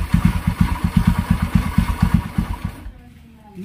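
Engine of a Kawasaki Barako motorcycle, newly fitted with a replacement carburetor and loose jetting, chugs in a loud rapid rhythm near the mic, then cuts out abruptly and falls to near silence.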